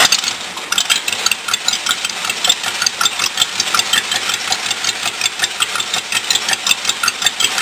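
A rat rod roadster's engine running steadily at a loud, rough idle with a fast, even pulsing beat throughout, close up and alone with no talk.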